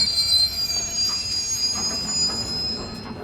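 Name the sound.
train rumbling into station, sound effect from visual novel game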